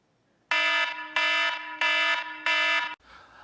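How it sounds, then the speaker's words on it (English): An oven kitchen timer goes off for a frozen Home Run Inn pizza: four loud, evenly spaced electronic beeps, each about half a second long and close up, with no talking. "As you can see, the timer just went off"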